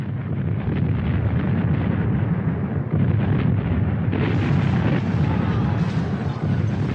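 Heavy artillery bombardment on a World War I front, a continuous dense rumble of distant explosions rolling together into one loud, unbroken roar.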